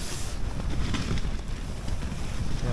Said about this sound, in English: The wind's changed direction.